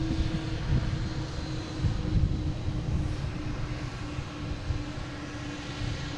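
Jet airliner departing Boston Logan International Airport for Salt Lake City, a steady loud rumbling engine roar with a sustained low hum, continuous throughout with no talk.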